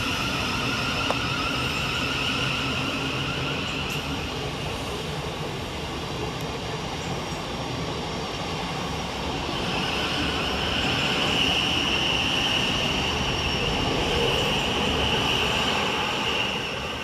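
Thameslink Class 700 electric train departing Burgess Hill station, a sustained rising whine and rolling rumble that swells gradually as it pulls away, with no voices.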